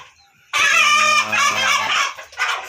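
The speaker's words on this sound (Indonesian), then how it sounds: "ini ayam berisik betul" A chicken with labored, gasping breathing makes a loud, close, strained squawking cluck that drops into a lower rasping call, then a brief softer trailing cluck.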